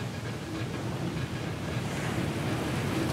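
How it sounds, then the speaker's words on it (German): Ocean waves surge and crash around a ship's deck in the video game Call of Cthulhu: Dark Corners of the Earth, a continuous, loud roar of surf and wind with no break. "Kommt da wieder eine Welle, oder was?"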